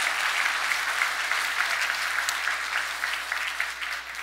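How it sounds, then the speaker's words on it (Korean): A church congregation at a Christmas service applauds the children and their teachers, giving a continuous, even round of clapping heard from some distance across a large room. "수고한 우리 어린이들 또 선생님들에게 격려의 박수를 함께"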